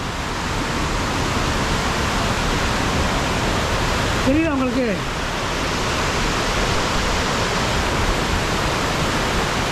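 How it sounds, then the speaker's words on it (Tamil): Water rushes loudly and steadily through a tunnel waterfall, a dense unbroken roar filling the space, with someone speaking briefly over it partway through. "தண்ணி ரொம்ப வேகமாக செம்ம ஸ்பீடாக போகுது பாருங்கள்."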